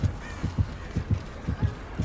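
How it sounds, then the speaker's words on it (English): Heartbeat effect from the video game Dead by Daylight, a loud, steady, close double-thump pulse repeating about every half second. "these heartbeats are sounding a lot closer than the killer actually is"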